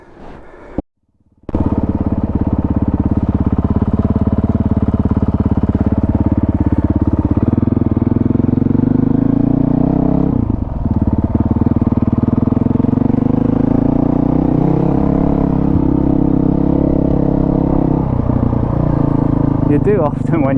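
A dual sport adventure motorcycle rides a trail lane in Shropshire, its engine droning loud and steady throughout, rising and falling slightly in pitch with throttle changes, with rough wind buffeting.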